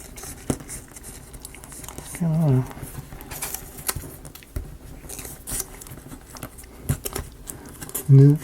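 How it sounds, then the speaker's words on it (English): Material crinkled up by hand while building a magic library book nook, soft scattered crackles and rustles in short bursts with a couple of louder handling thumps, no speech over it. "Crinkling it up again."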